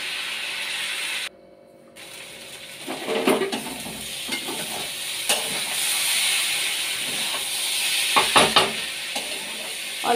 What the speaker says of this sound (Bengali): এবার হলুদ দিয়ে নুন দিয়ে আলু পেঁয়াজটা খুব ভালো করে কষে নিচ্ছি।